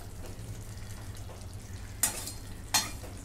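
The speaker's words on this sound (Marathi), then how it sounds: "आता ह्याच्यामध्ये कोथिंबीर टाकून घेते. आणि मिक्स करून घेते." A pan of cauliflower and potato curry being stirred after coriander goes in, a soft low sizzle under two sharp scraping strokes of the spoon against the pan, close and fairly quiet.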